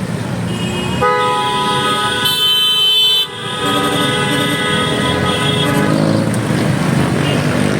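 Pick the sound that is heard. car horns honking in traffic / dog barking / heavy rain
car horns honking in traffic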